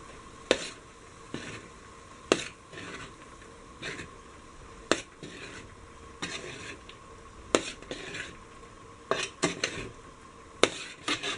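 Kerala-style beef fried rice mixed in a pan, a run of sharp, evenly spaced scrapes and clacks of a spoon against the metal over a faint background hiss, no talking.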